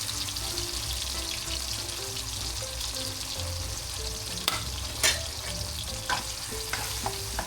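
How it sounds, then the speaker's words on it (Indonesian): Ground spice paste with turmeric sautéing in a pan, a continuous loud sizzle with a few sharper clicks of a utensil stirring near the end. "Tumis sampai harum dan matang biar nggak langu."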